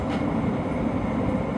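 A New York City subway E local train runs on the 6th Avenue line toward Delancey Street-Essex Street, producing a steady, loud, close rumble with continuous wheel and car noise throughout.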